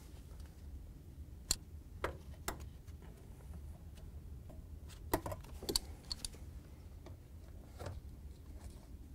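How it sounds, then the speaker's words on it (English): Pliers work on the drain line of an LG/Kenmore washer drain pump, giving sparse, faint metallic clicks and snaps at irregular intervals over a quiet background. "We're gonna take our pliers and remove the drain line."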